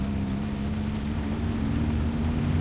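A boat engine in the Jurassic Park video game: a steady, low droning hum with a faint wash of wind, continuous and unvarying, with no voices.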